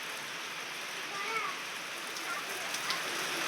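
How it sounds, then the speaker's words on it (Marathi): Heavy rain pouring steadily, a broad constant hiss of drops on surfaces, with faint speech underneath. "जोराचा पाऊस आलाय."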